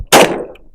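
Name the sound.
Hi Point pistol gunshot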